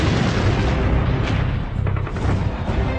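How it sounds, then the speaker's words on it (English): Heavy WWII aerial bombing during Operation Cobra, a dense, continuous rumble of booming explosions with low-end weight throughout and no voices. "Operation Cobra, the Allies' heavy bombing campaign to break out from the beaches, unleashes 9 million pounds of bombs."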